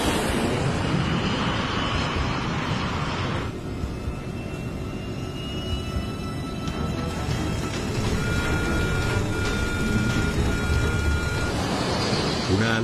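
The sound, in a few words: cockpit warning alarm on Spanair MD-82 airliner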